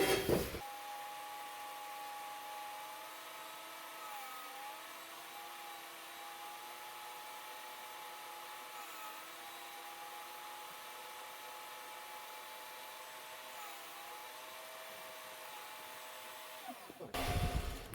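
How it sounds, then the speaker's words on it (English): A CNC tool grinder makes a hand-fed eccentric grind, giving a steady whining motor tone with slight pitch wobbles that runs for about sixteen seconds, then stops, with no talk. "I'm gonna hand feed this way, and we're gonna see if we can't do an eccentric grind."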